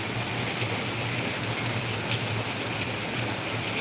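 Heavy rain pours down steadily in Ahilyanagar during a downpour, a dense unbroken hiss with no voices.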